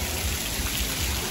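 Small decorative water fountains on the deck of the P&O cruise ship Iona, giving a steady, dense splashing hiss like heavy rain, close and continuous without pause.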